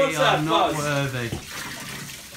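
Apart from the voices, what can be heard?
hot water running into a bath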